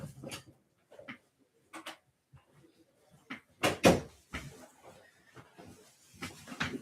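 A door opens and shuts to let a dog back inside, producing a couple of sharp wooden knocks and rattles close by, mixed with scattered shuffling and small handling noises in a quiet room.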